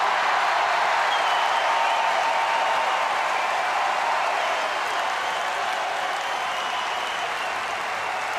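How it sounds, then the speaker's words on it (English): A large indoor crowd at a Paralympic para judo match applauds and cheers in a dense, continuous roar of clapping. It stays loud and steady throughout and eases only slightly toward the end. "the crowd absolutely loving it"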